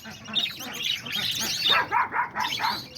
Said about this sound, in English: There's my little dog all barking or something.